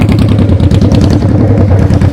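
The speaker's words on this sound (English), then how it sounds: "That's a motorcycle. Vroom, vroom." A motorcycle engine idles close by with a steady low rumble and a fine, even clatter throughout, loud and alone, with no talk over it.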